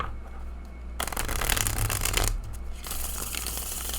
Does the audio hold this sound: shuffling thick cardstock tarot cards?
yes